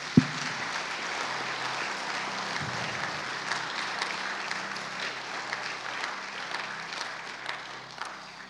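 A church congregation applauds and cheers for missionaries and martyrs, a steady wash of clapping holding at even loudness for several seconds, with no voices rising above it.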